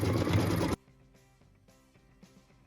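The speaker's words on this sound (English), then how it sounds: "So what we're doing now is stitching that beautiful optional ribbon design on our block." A sewing machine stitches a decorative ribbon design onto a quilt block, running loud and steady for under a second before stopping, followed by faint mechanical clicks and soft handling noises.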